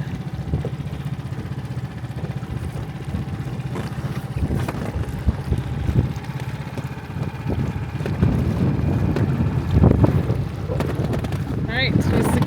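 Wind roars and buffets the microphone on a MacGregor 26M sailboat at its mooring, with water sloshing and occasional muffled voices underneath.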